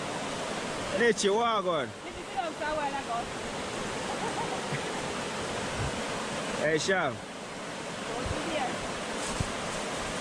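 A river flows at the riverside with a steady, even rush of water, and people's voices speak briefly over it now and then.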